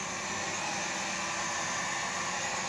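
An E58 budget drone flies on its brushed motors, giving a loud, continuous, even whir that does not change in pitch or level over the short stretch, with no voices.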